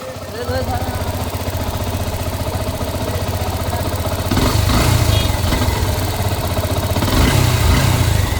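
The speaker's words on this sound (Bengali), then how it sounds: "বাইকটা যেহেতু ওকে হয়ে গেছে এবং বাইকের সাউন্ড শুনলেন তো" A repaired Yamaha Fazer version 2 motorcycle engine runs close by with a steady, loud, rapid putter, rising briefly in rev twice, while a voice talks over it.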